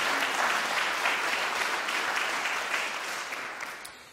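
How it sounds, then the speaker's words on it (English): Audience applause at an international piano competition concert in Poznań: a full, dense wash of clapping from a large hall crowd, steady and loud, tapering slightly toward the end with no speech. "round of applause to all those people"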